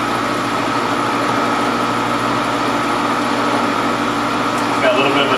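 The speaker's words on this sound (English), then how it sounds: "360 RPM, that's our engine running slow." A Hundested marine engine runs slow at 360 RPM during a rebuild. It gives a steady, even mechanical drone with a constant hum throughout, close and fairly loud, and a brief higher clatter near the end.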